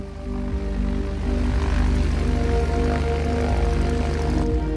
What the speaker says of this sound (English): The XF-5U was powered by two Pratt & Whitney twin Wasp engines.